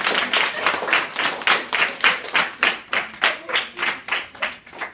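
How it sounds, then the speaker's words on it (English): Classroom applause for student award winners, a small group clapping steadily and fairly close, about a dozen distinct hand-claps in an even rhythm with no talk over it. "Round of applause for these guys."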